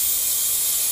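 Pressurized air hisses steadily and loudly from a leaking intake gasket on a boosted engine under about 15 PSI, a continuous close-up rush with no voices.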